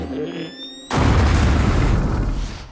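A cartoon explosion from a plan to blast through a wall with explosives bursts in suddenly after a quiet tonal passage, a loud broad boom that rumbles on for nearly two seconds before cutting off.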